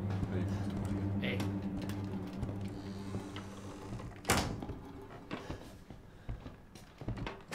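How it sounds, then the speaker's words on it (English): A door in Resident Evil 7 swings shut with one sharp, close thud at the end of a low mechanical hum, followed by a few softer knocks and shuffles, with people talking around it. "Close the door."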